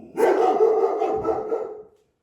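A dog barks indoors: one drawn-out, slightly howling bark that rises sharply and trails off after about two seconds, fairly close, with no talk over it.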